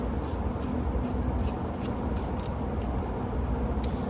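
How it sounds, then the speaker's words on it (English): A ratchet clicks in quick bursts while backing out the number one spark plug on a small block Chevy engine, the pawl ticks riding over a dense, steady workshop background. "Pull the number one spark plug out here."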